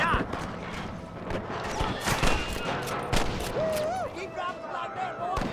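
Gunshots from a Western shootout in Red Dead Redemption crack out repeatedly over hoofbeats and busy game ambience, with voices talking throughout.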